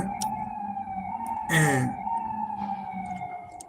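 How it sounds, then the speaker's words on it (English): Emergency vehicle sirens wailing outside, a steady sustained tone heard at moderate distance, with a brief spoken word and a short rising voice over it partway through. "Hear them sirens?"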